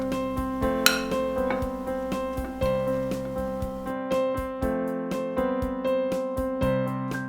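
A spoon clinks and knocks against the side of a bowl while flour is stirred into cake batter, repeated close taps in an uneven rhythm with no speech.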